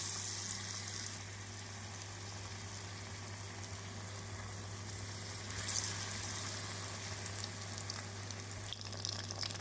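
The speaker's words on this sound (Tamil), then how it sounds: "இப்பொழுது நாம் இதை எண்ணெயில் பொரித்து விடலாம்" Mushrooms frying in hot oil for mushroom 65 make a steady, close sizzle that holds at an even level throughout, with a faint low hum underneath and brief crackling flare-ups.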